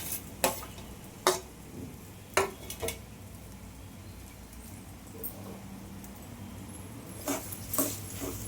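Potato pieces stirred in a frying pan for aloo paratha filling, with a few scraping clinks of utensil against the pan spaced apart over a quiet background hum.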